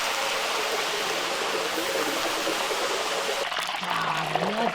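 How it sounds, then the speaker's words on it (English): Water splashes and trickles into a cooking pot while preparing Buddha Jumps Over the Wall, a steady close watery rush that continues throughout, with a brief voice near the end. "what I don't get is why he's splashing the water in there"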